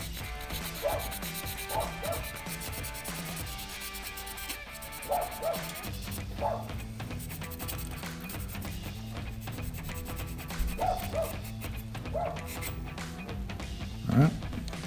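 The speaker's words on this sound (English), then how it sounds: "you want to go ahead and get all that carbon buildup off your flame sensor" Sandpaper rubs carbon buildup off a residential furnace flame sensor, soft repeated scratchy strokes up close, fairly quiet, with faint background noise and no talking.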